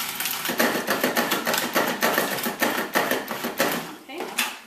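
Food processor blending almond flour, ground flax, baking soda and salt for paleo bread, a dense whirring grind in repeated short pulses, loud and close throughout.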